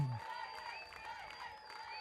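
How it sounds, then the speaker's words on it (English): Applause from an awards crowd at a provincial softball championship in Durban, honouring the most valuable player in the women's section, heard as a faint, steady patter of clapping at a distance for about two seconds. "A round of applause, most valuable player in the women sections."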